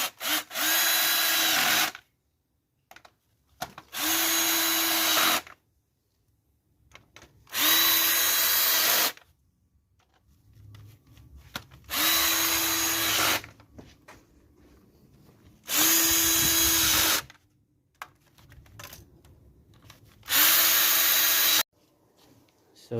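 A power tool tightens bolts on the valve cover of a Chevy Cruze during a tune-up, with six loud bursts of whirring, each about two seconds long, separated by quiet pauses and faint handling noises.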